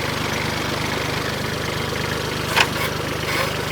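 A tractor engine idles steadily and close, a continuous low rumble with a brief louder knock or clatter around the middle and no speech.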